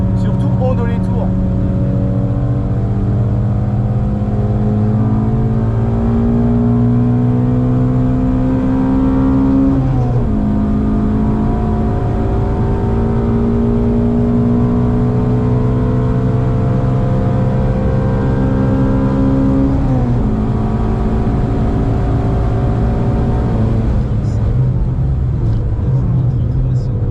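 A Shelby sports car engine roars loudly on a race track, rising repeatedly as it climbs through the gears, with brief shift dips and people talking over it inside the car.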